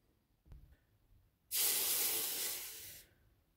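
A hot cast bronze mini sculpture plunged into a bucket of water gives one loud, sustained hiss of steam lasting about a second and a half after a small knock, then cuts off, close and without talk.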